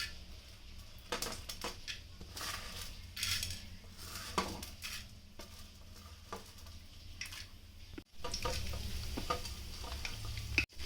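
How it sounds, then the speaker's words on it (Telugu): Black gram, split chickpeas and coriander seeds crackle in hot oil while a spoon clatters and scrapes repeatedly against the pan, fairly close. "మినపప్పు, పచ్చిశనగపప్పు, కొంచెం ధనియాలు, ఇవి కొంచెం ఫ్రై చేసుకుందాం"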